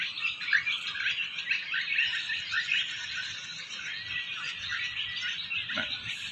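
Swallows chirping around a net trap: a dense, continuous flock chatter of high twittering calls, moderately distant and steady for several seconds, with no voices.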